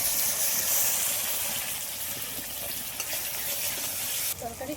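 Onion, tomato and chili masala paste, with salt and turmeric added, frying in a pan for a pineapple mutton curry, giving a steady close broadband sizzle that runs throughout and eases slightly near the end.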